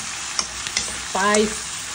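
Chicken tinola with garlic, ginger and celery stirs in a hot pot, a soft steady sizzle broken by a few sharp utensil clicks and a brief scraping swipe.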